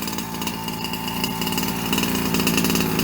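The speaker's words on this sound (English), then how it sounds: "I blip it every once in a while. It's got a great sound though." A small 36cc two-stroke engine in a Rampage RC car, untuned during break-in on 25:1 fuel mix, runs continuously up close, a loud raspy buzz with a slight rise in intensity toward the end.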